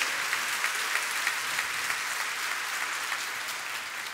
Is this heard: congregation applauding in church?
yes